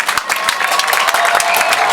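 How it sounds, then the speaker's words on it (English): A crowd applauds steadily, a dense wash of clapping with a few sharper claps standing out, continuing at an even level. "What about a nice huge round of applause for round one?"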